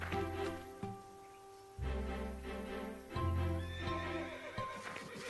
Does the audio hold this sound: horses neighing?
yes